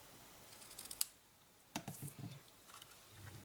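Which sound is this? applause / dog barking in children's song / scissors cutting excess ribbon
scissors cutting excess ribbon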